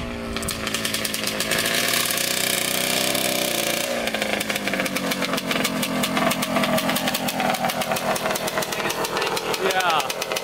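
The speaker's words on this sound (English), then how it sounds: "Oh, there we go, there's second gear." Kawasaki Tecate 250cc two-stroke engine screaming at high revs in second gear, a loud buzzing pitch that drops at a shift then climbs again, close and continuous throughout.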